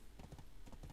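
Horse hooves clip-clop at a steady trot in Black Desert Online, a quick series of soft, close footfalls over about a second with no talk.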